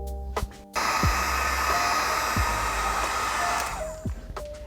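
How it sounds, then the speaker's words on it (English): A heat gun blows steadily while heating PVC pipe for a candy cane decoration. The hot-air roar starts abruptly, holds for about three seconds and then cuts off, with a few faint clicks and knocks around it. "careful where you set down your heat gun"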